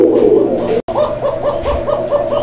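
Pigeons cooing close by, a loud continuous throaty coo followed after a brief gap by a run of rhythmic repeated coos.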